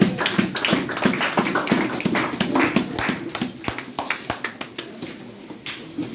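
A church congregation breaks into applause, dense overlapping hand claps rising and falling, then thinning into scattered separate claps toward the end, moderately loud in a reverberant hall.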